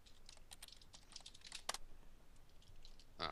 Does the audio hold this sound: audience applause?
no